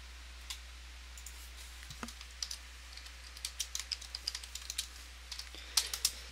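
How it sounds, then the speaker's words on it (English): Close, quiet keyboard typing: irregular bursts of sharp clicks and taps, growing busier toward the end, with no voices. "I'm gonna be typing a lot for the stream."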